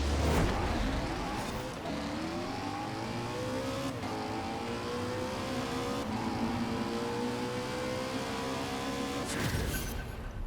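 A drift-tuned bus with no grip launching down a drag strip in Forza Horizon 4, its engine roaring loud and close and rising through the gears with clear shifts, a tire screech at the start.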